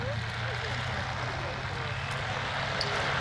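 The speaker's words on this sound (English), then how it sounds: "P-51's coming in." A P-51 Mustang flies in, its engine a steady, loud drone throughout with no breaks.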